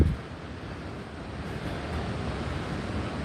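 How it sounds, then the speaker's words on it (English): The Augrabies waterfall at high flow, roughly 850,000 litres per second, gives off a broad, steady roar of rushing water with no breaks and no voices. "the original Khoikhoi residents named the waterfall Augrabies, place of great noise"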